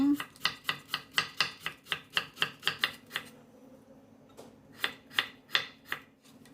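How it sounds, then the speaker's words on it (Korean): A knife chops 600 g of radish into pieces on a board: a fast, even run of about a dozen crisp, close chops, a short pause, then four more. "무 600g도 비슷한 크기로 썰어 볼게요."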